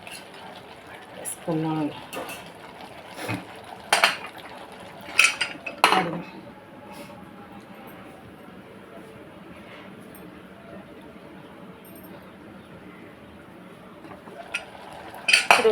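Farm chicken curry stirred in a pot with a metal spoon, giving intermittent scraping and clanks against the vessel over a low background, while someone talks throughout in Telugu.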